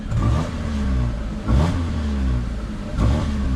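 A 2005 Proton Waja 1.6i engine on its original muffler revs three times in close succession, each throttle blip rising into a loud, deep swell before settling back to a rumbling idle.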